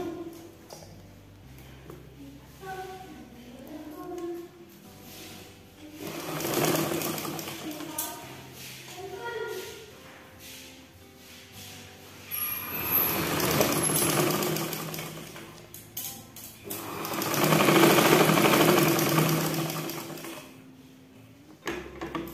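A sewing machine topstitches the lining of a women's blouse in three longer bursts of whirring. Someone talks quietly between and under the stitching runs.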